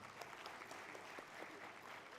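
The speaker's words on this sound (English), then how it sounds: "round of applause for that wonderful session, sir" A conference audience at a technical session gives a round of applause, a steady, soft wash of many hands clapping that is fairly distant and quiet for the whole span.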